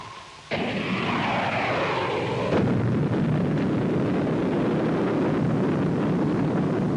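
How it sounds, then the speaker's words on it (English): Missile units fire in a 1950s TV space adventure series, a sudden loud blast opening into a sustained roaring rush that swells again partway through and keeps thundering steadily with no voices. "Missile units commence firing by twos. Fire one. Fire two."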